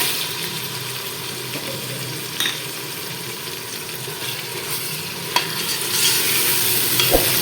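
Beef mince with tomatoes fries in a pan for keema matar, a continuous loud sizzle and hiss. Occasional sharp clicks and scrapes of stirring come through, and the frying swells slightly near the end.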